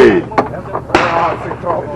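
Gunfire at an outdoor shooting range: two sharp, loud reports about half a second apart, with people talking around them.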